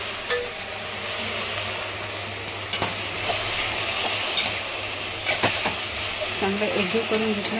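Taro leaf (aloo) bhaji sizzles steadily in a pan while a spoon stirs and scrapes it, with occasional sharper clinks over a continuous frying hiss.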